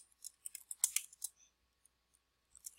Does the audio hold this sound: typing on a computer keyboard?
yes